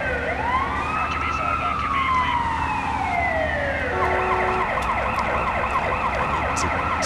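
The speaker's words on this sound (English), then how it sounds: "Okay, it's the ambulance." An ambulance siren in the SimCity 4 city-building game wails in one long rising and falling sweep, then shifts into a rapid warbling yelp, loud and steady over a constant background hum.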